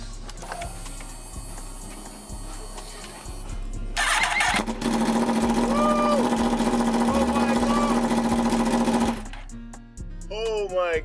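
A 2015-onwards Yamaha R1 with a decat pipe and the end silencer removed revs loudly and harshly for about five seconds. Quieter idling comes before and after, and a voice is heard.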